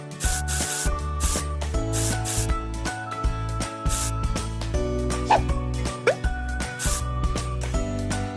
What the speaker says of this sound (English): And now some serious rubbing.